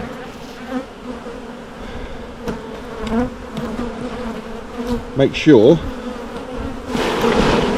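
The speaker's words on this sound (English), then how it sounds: "I shook the bees into the nuke" Honeybees buzz in a dense swarm close by as they are shaken from a frame into a nucleus hive, a steady droning hum with a few louder passes, and a person speaks briefly over it.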